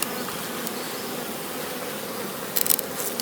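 Drone honeybees hum steadily over the frames of a hive, a close and dense buzzing, with a few sharper rattling clicks near the end.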